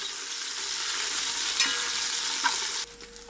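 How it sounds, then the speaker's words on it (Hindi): Green chillies fry in hot oil in a pan, a loud, steady hiss and crackle with a couple of stirring scrapes, cutting off abruptly near the end to a quiet background. "इसके साथ ही हम डाल देंगे हरी मिर्च 5-6 अदद, ताकि ये भी थोड़ी सी ब्राउन हो जाए, फ्राई हो जाए।"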